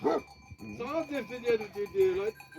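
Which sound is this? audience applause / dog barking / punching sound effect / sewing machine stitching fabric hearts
dog barking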